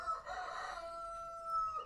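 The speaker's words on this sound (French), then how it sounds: "Ça c'est mon coq." A rooster crows once in a backyard garden, a single drawn-out call heard at a moderate distance in otherwise quiet surroundings.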